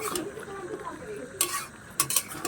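Shrimp and vegetable curry with pumpkin and Malabar spinach stirred in a pan, soft scraping and a few metallic clinks of a spoon against the pan over a faint sizzle.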